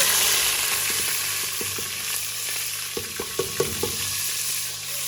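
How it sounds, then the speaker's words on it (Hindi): Onion and green chili frying in hot ghee, a loud, dense sizzle throughout, with a burst of stirring clinks and scrapes in the middle. "मेरा घी जो है वो गर्म हो चुका है। अभी इसमें डाल रही हूँ ये प्याज और हरी मिर्च।"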